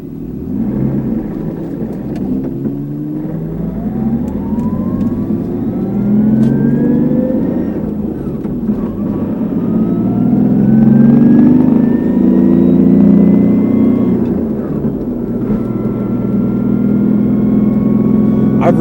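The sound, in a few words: car with R154 gearbox swap accelerating through gears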